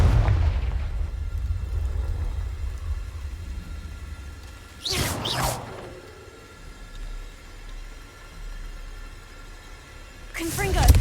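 Two sharp fiery blasts from the Confringo spell in Hogwarts Legacy, one mid-way and one at the end, each a loud whooshing burst over a low ambient rumble, with a voice calling out between them.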